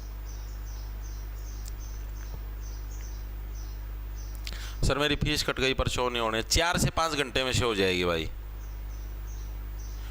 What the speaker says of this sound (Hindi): चिड़ियों की आवाज आ रही